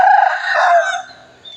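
A rooster at a Thai temple crows once, loud and close, a single drawn-out call that fades at the end, with chickens gathered nearby.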